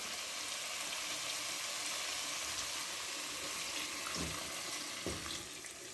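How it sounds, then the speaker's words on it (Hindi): Water pours into a cooking pot of oil-browned fried masala for chicken shorba, a faint steady rush with soft sizzling and a couple of small clinks near the end. "अब इस वक्त मैं इसमें पानी ऐड करने लगी हूँ।"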